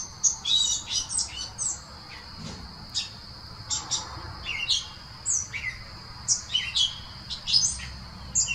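Outdoor birds chirp in quick, bright bursts of tweets and squeaky calls, fairly close and repeated throughout over a quiet background, with no talking.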